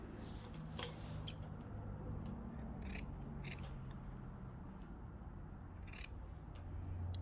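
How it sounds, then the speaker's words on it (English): Scissors trimming pants fabric, giving a handful of quiet, crisp snips and clicks spaced unevenly over a low, steady background hum. "I want to trim this one nicely, follow the pink one"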